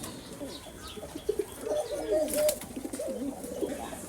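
A male racing pigeon coos in a loft kept with other pigeons and birds, giving a rippling series of throaty calls at moderate distance, with faint chirps and a brief wing flutter in the background.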